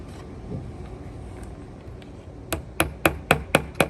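Six sharp staple-gun snaps, evenly spaced at close range, fastening wire covers onto a deck post, following a stretch of quiet handling and rustling.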